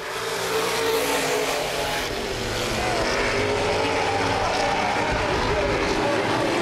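Open wheel modified race cars thunder around Baer Field Speedway in a feature race, a loud continuous roar of mid-pitched engines with cars passing and revving under a steady crowd-and-track wash, with an announcer talking over it.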